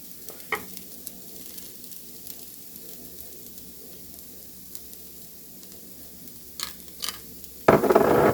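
Vegetables sizzle softly in a pan under a steady frying hiss while a utensil scrapes and taps the pan a few times, ending with a sudden louder crackling burst as they are stirred around.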